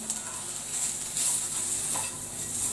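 Bacon frying in a pan gives a steady, bright hiss of sizzling fat with small crackles and occasional stirring scrapes, close and continuous with no talking.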